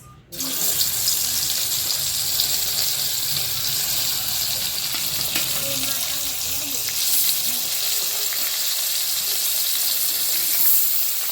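Dense, steady sizzling of koi fish frying in hot oil, a continuous crackling hiss that carries on at the same level throughout.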